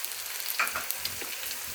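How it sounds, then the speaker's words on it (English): Fresh chili peppers hit a hot pan on medium-high heat with garlic already browning, giving a steady close sizzle with brief bursts of crackle. "Go ahead and throw in the fresh chili peppers"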